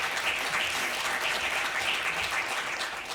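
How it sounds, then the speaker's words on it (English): Sustained audience applause fills a conference keynote hall, a dense, steady wash of clapping from a large crowd with no voices over it. "I'll take a round of applause for that."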